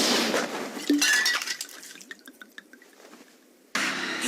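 In a Tagalog-dubbed anime scene, a glass jar is thrown and smashes with a sharp crash, followed by scattered tinkling and dripping shards before the scene noise returns abruptly.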